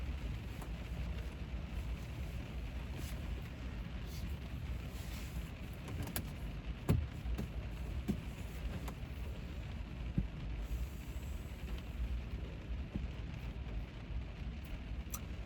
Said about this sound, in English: I'm very much enjoying this rain right now.